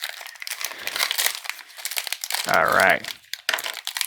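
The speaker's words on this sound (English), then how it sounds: "so I can cut this open without destroying the sleeve." Plastic packaging of Yu-Gi-Oh Konami Duelist card sleeves being cut open with a cutter, producing close crinkling and crackling of plastic with a brief scraping squeal and short bursts of rustling, while a voice speaks briefly.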